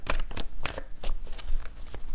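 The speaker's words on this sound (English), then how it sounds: "let's see if I can shuffle this without these cards flying all over" A deck of playing cards is shuffled by hand, with repeated riffling bursts and crisp snaps in an irregular rhythm, close to the microphone and with no talk over it.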